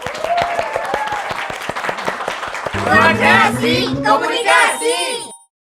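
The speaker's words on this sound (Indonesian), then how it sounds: "Tepuk tangan dulu dong buat Ibu." An audience claps for someone speaker at a talk on final-project alternatives to a thesis, first as sparse separate claps, then swelling into fuller applause with whoops and cheers before stopping abruptly.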